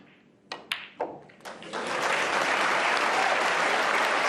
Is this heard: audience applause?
yes